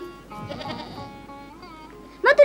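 Young kids of spotted goats give a brief, loud bleat right at the end, after a soft murmuring stretch.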